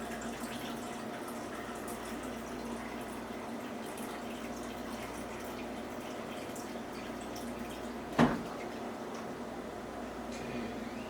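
Water running from a tap into a measuring cup for vegan burger dough, a steady faint trickle with a low hum, and one brief sharp knock near the end.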